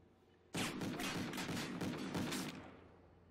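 Rapid automatic gunfire in a first-person shooter video game, a dense burst of shots lasting about two seconds after a quiet start, loud and close, then trailing off; no speech.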